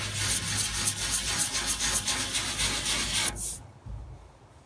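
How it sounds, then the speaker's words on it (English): Rapid back-and-forth scuffing of old paint before a repaint, a close, steady abrasive rubbing that carries for about three seconds and then stops abruptly. "you gotta scuff the old paint up a little bit to get it the new paint to stick."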